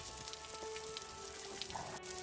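Rain falling in a Hindi cartoon story, a soft, even patter of drops over a faint tonal background, continuous and fairly quiet throughout.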